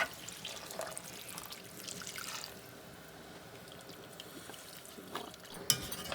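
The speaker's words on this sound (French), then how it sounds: "je prends encore un petit peu d'eau" Small amount of water poured into a cooking pan to loosen the base, a faint, soft trickle and splash against quiet kitchen background.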